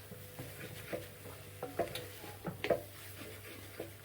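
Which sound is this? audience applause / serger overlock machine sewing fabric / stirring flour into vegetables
stirring flour into vegetables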